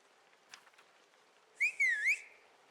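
A magical whistle for an enchantment in the cozy video game Cabernet, heard as a bright, wavering whistled tone in two quick phrases that rises and falls, over a faint quiet background.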